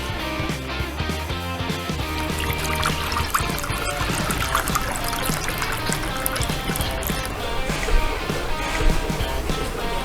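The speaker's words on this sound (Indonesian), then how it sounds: "teman-teman hanya perlu mengisi air melalui corong yang ada di atas setrika tersebut" Water poured into the filling funnel on top of a manual steam iron: continuous trickling and gurgling liquid, close and fairly loud, with a busy mix of splashing detail throughout.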